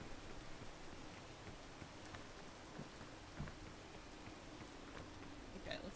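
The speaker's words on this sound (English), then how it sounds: "Yeah, it's raining." Steady, quiet rain falls in the video game PEAK, a soft continuous hiss with faint scattered drops and a low rumble underneath, holding evenly without any talking.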